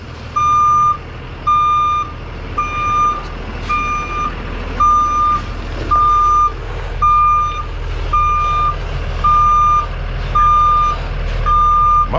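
A truck's reversing alarm beeps in a steady repeating rhythm while it backs up at a construction jobsite, loud and close over a low engine rumble.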